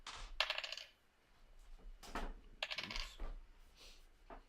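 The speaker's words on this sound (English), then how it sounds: "Those dice sound about that big." Dice clatter on a tabletop during a tabletop roleplaying game session, a few quick rattling bursts of hard plastic tumbling and settling, close and fairly quiet, with faint background sounds between rolls.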